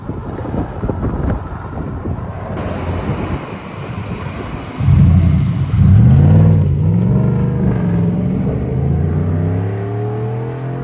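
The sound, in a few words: V8 pickup truck exhaust accelerating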